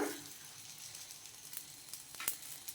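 Carrot holige frying in oil on a pan over a low flame, giving a quiet, steady sizzle with a few sharper crackles and pops near the end and no talking.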